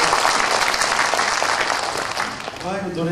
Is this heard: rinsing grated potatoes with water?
no